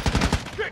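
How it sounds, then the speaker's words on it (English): Sniper rifle shots in the game Call of Duty: Modern Warfare II, heard as a quick run of three or four loud, booming reports in under a second, followed by a short tonal tail. "Ooh, them sniper shots."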